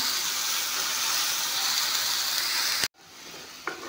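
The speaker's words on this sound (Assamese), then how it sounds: "এইখিনি অলপমান ভাজি ল'ম।" A loud, steady sizzle of spice paste frying in a pan fills the air, cutting out abruptly near the end, followed by a quieter hiss and one small clink.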